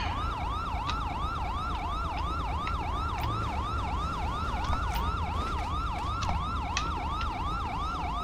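An ambulance siren in the video game GTA V wails in a fast, steady up-and-down pattern, loud and continuous over a dense rumble of traffic and engine noise, with no talking.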